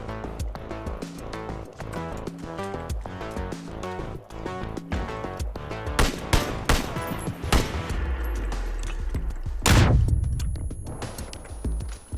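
Rapid bursts of gunfire and explosive shots from a shooting video game, loud and dense throughout, with a heavy blast near the end over busy game sound.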